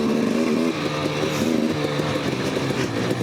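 A 2018 KTM 250 XC-W TPI fuel-injected two-stroke dirt bike runs steadily with a buzzy, raspy engine note, loud and close, with slight rises and dips in pitch while riding.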